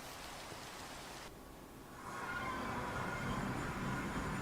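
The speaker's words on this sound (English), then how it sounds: "I have no way to turn off the rain unless I go to the overworld" Steady rain hisses in a video game world, a soft continuous wash that thickens and grows louder partway through, with no voices over it.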